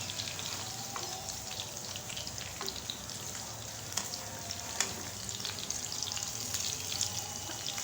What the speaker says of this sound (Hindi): इसको फ्राई होते हुए 4 मिनट हो चुके हैं। अब हम इसकी साइड चेंज करेंगे।